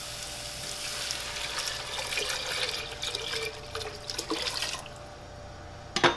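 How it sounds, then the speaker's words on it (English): Water is poured from a container into a soup pot holding vegetables for Marseillaise fish soup, a continuous splashing trickle that stops near the end before a short clatter. Nobody speaks. "we're going to add our water."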